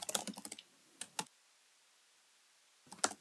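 Close, crisp bursts of keystrokes on a computer keyboard while setting up an Android layout: a rapid flurry at the start, two isolated taps, a long silent gap, then another short burst, with no speech.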